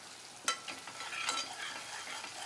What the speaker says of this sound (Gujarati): ટમેટા નાખી અને ઉપરથી મીઠું નાખવાનું અને એકદમ છે ને મિક્સ કરી નાખવાનું.